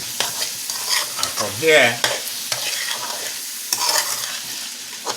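Okra rice with pumpkin and salt fish being stirred in a pot, a close and continuous scraping sizzle with a few clanks of the spoon and a brief word spoken over it.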